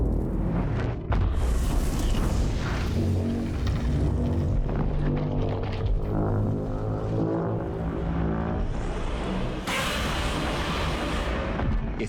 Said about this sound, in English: he's about to explode like an atom bomb.